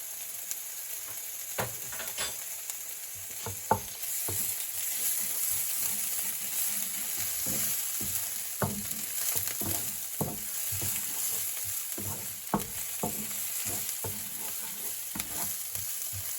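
Red blended jalapeno peppers and garlic fry in a pan with a steady sizzle and crackle, with scattered stirring scrapes and clicks, close and continuous, no talking.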